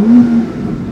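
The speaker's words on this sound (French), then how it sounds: "se loge un V12 double turbo qui développe 610 chevaux, 800 Nm de couple" A BMW M760Li twin-turbo V12 revs hard for a brief, loud surge that fades quickly into a lower rumble.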